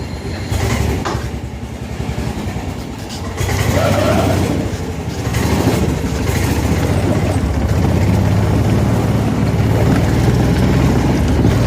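A Club Car golf cart's engine runs as the cart drives forward, giving a loud, steady mechanical rumble that continues throughout with slight surges.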